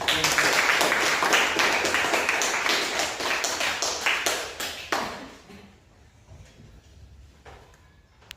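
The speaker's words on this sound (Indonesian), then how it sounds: "silakan tepuk tangan untuk" Classroom applause, with many hands clapping loudly and steadily before tapering off into a few scattered claps and quiet room noise.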